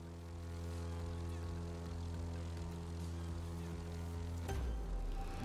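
Propeller airplane engine droning steadily in The Crew 2 racing game, a constant loud hum with strong tonal layers that shifts abruptly near the end.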